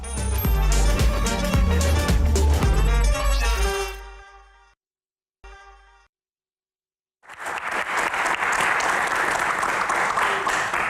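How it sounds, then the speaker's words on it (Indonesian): A loud burst of music gives way to brief silence, then a crowd at a Q&A event breaks into clapping for Manchester United, dense and fairly close, lasting several seconds to the end. "Pasti, kita tepuk tangan buat MU."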